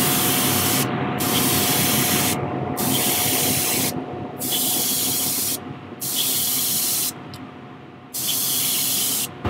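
Paint sprays in pearl white onto a small shallow-running musky fishing lure. There are five loud, hissing bursts of a few seconds each, separated by short silent pauses.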